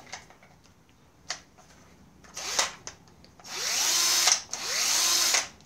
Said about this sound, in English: you can see the drill is running.